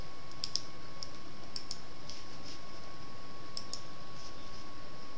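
Light mouse clicks on a computer, a few scattered pairs of sharp ticks over a steady faint hum, heard alone without speech.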